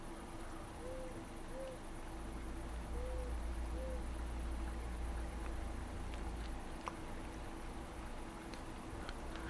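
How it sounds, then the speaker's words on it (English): An owl hoots four soft, brief times early on in the video game Eastshade, fairly quiet and mid-distance over a steady ambient hum and low rumble, with no one speaking. "Oh, there's an owl."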